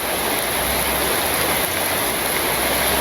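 Monsoon rain falls steadily on a rural village, a loud, dense, unbroken hiss of rain pounding surfaces with no pauses.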